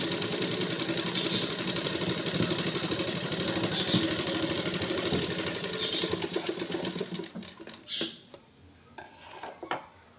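Close up, a tailoring sewing machine stitches fabric in a fast, even run of mechanical ticks that slows into separate clicks and stops about two seconds before the end, with no voice over it.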